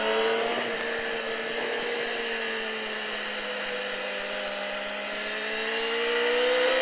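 A motorcycle accelerates around the Alès race track during a rider-school track session, its engine a loud, sustained drone whose pitch climbs and bends steadily across the whole stretch.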